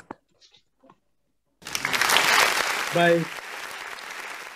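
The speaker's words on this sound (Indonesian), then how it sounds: "Tepuk tangan untuk tim Legenda." An audience at an Ideathon event for Rindu Labuan Bajo breaks into loud applause for team Legenda after a short quiet stretch, the clapping swelling and then settling while a voice speaks briefly over it.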